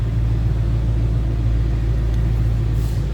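2008 Ford Mustang Bullitt idling or running with a deep, throaty exhaust, a loud, steady low rumble that holds constant throughout without any talking.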